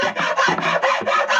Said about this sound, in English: I'll take this and I'll use a fine wood rasp